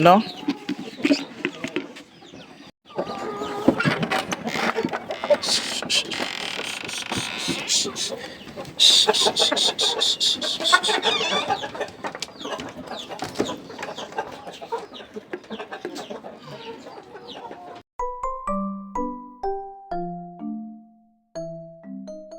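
Flock of farm chickens gathered near the keeper expecting food, a dense chorus of clucks and squawks close by, with someone talking over them, before bright tonal music takes over near the end.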